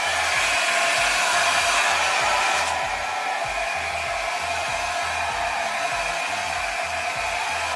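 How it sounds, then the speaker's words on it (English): A blow dryer running steadily on the cool setting to dry wig glue, a loud continuous whoosh that drops slightly in level partway through, with no talking. "I'm going to go ahead with my blow dryer now and dry the glue"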